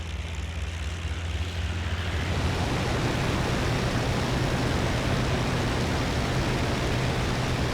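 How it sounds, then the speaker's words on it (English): Ju 87 Stuka engine at full power in IL-2: Battle of Stalingrad, a dense, loud, steady roar that swells after the first couple of seconds and holds without a break, with no speech over it. "I'm pushing the engine as hard as it will go."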